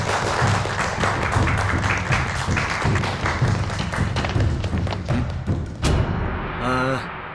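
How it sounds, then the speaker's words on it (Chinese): A gathered film crew gives warm applause to welcome a martial arts team, dense clapping from many hands close by, fading toward the end with a brief different sound. "接下来呢，我们就用热烈的掌声欢迎咱们的武术团队"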